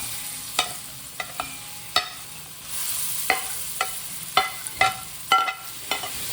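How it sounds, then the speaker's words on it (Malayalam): Chopped mango is sautéed in hot ghee, a soft steady sizzle punctuated by about a dozen sharp spoon taps and scrapes against the pan, close and clear with no voices. "നെയ്യ് ചൂടായി ആദ്യം അരിഞ്ഞു വെച്ച ചെറുതായിട്ട് അരിഞ്ഞു വെച്ച മാങ്ങ ഇട്ട് വഴത്തിയെടുക്കാം"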